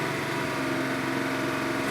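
A 1976 Porsche 911 with a 2.7-liter engine runs at a loud, steady, buzzing drone close by, with no clear rise in pitch during the short stretch.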